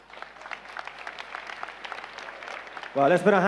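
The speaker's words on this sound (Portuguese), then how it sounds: "Vamos aplaudir juntos a Jesus Cristo" A church congregation applauds, giving light, scattered clapping that builds over a few seconds before a loud voice cuts in at the end.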